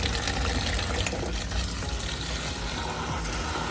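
Water gushes steadily from a tap into a bowl set up to defrost food in a home kitchen, a constant close, dense rushing with no pauses.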